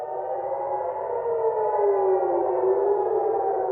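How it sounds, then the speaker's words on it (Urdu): An air raid siren wails over Haifa in northern Israel, warning of incoming Iranian missiles: a steady, sustained civil-defense tone holding at an even, fairly loud level throughout, heard alone with no voices. "دریں اثنا اسرائیل کے کئی شہروں میں اب سائرن کی آواز مانوس ہو چکی ہیں۔"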